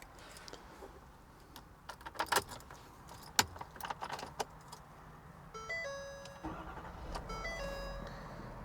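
Keys to a 2022 Ford F-550 XL Super Duty jangle and clink in a few quick bursts, followed by soft electronic chimes from the truck; quiet and close.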